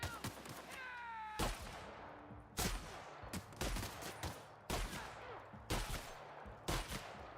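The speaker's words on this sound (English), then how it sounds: "No, it's a shotgun" Shotgun blasts in The Outer Worlds, six loud separate booms at irregular intervals of about a second, each cut off sharply, following a brief tonal sweep at the start.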